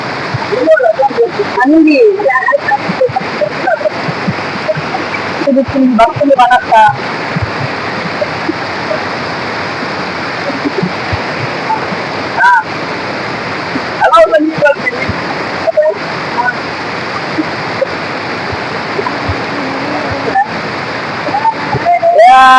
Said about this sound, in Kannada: ಇಲ್ಲಿ ಕಲ್ಲುಗಳು ಜಾರುತ್ತಿದ್ದು ನೀರು ಭಾರೀ ರಭಸವಾಗಿ ಹರಿಯುತ್ತಿದೆ